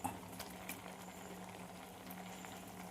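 Beans and pumpkin pieces boil in a pot with salt for a Kerala Onam sadya dish, giving a faint, continuous bubbling simmer with no talking.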